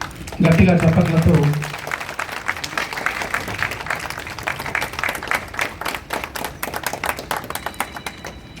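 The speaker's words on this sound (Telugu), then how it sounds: "గట్టిగా చప్పట్లతో" Crowd clapping at a CCTV camera inauguration ceremony in a police station, a dense, sustained round of applause lasting several seconds, with a voice over a loudspeaker briefly at the start.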